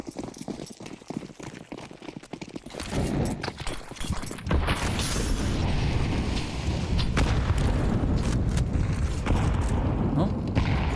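A grenade goes off in a Counter-Strike esports match between BIG and NIP in the ESL Impact League. Sharp thumps are followed by a sustained, loud rumbling blast under the game's busy background noise.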